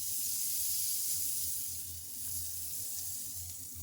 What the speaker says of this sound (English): we're gonna swirl that in our still hot skillet